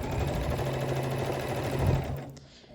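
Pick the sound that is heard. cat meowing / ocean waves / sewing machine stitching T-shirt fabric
sewing machine stitching T-shirt fabric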